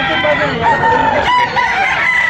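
A gamefowl rooster offered for sale in Talisay, Cebu crows once, loud and close, a drawn-out strained call that fills the brief moment.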